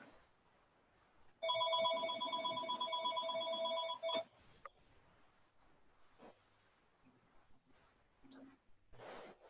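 A landline telephone rings in a room, one clear electronic trill burst lasting a couple of seconds, followed by quiet shuffling and faint scattered sounds.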